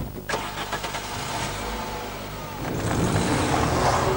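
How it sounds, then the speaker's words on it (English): A 2-litre petrol engine in a VW Transporter van pulls away, a steady mid-pitched drone that swells and grows louder near the end as the van gains speed. "As you pull away, you're immediately aware that this is a much more conventional petrol engine than the old Transporter."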